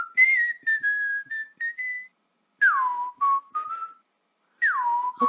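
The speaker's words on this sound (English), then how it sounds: "Whistling." A person whistles a few short melodic phrases, clear and close, with pauses between them and gliding pitches that slide downward.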